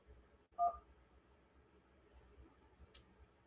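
A single telephone keypad tone sounds once as 1 is pressed to accept a call, with a faint click and quiet background before and after.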